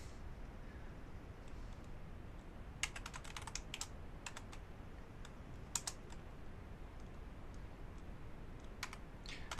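Typing JavaScript code on a computer keyboard, with bursts of quick key clicks separated by pauses over a steady low background hum; no one speaks.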